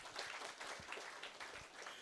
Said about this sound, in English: Again, clap for yourself.